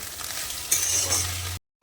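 Potatoes fry in a small amount of oil, giving a soft, close sizzle with light scraping, ending in a brief moment of silence.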